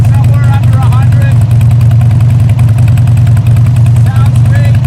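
A 2002 Harley-Davidson Sportster 1200 idles steadily up close, its loud low rumble continuous throughout, while a voice talks over it.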